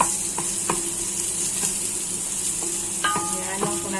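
Garlic frying in a pan for a Kapampangan-style Jollibee spaghetti gives a steady close sizzle, with several sharp clinks of a utensil stirring against the pan, and no voices.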